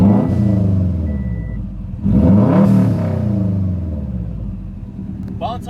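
A car engine revs up loudly nearby, rising in pitch and then easing back to a steady idle rumble, with no talking.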